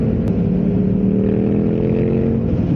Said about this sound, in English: I think he might have a custom exhaust put at the back.